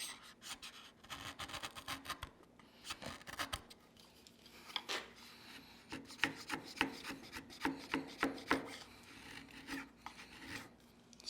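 Narex bench chisel cutting into wood, a series of quiet scraping and rasping strokes, irregular and close, growing denser toward the end.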